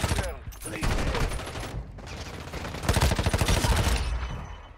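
Bursts of rapid automatic gunfire in the Warzone Mobile video game, loud clustered volleys separated by brief pauses, with game effects layered in and no clear talking.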